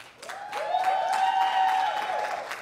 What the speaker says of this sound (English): how about a round of applause for our band right now?